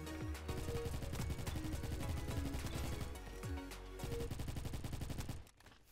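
Rapid gunfire in the online shooter game Bad Business with a UMP-45, dense bursts of loud repeated shots lasting several seconds before cutting off.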